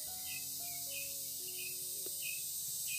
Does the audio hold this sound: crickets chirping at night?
yes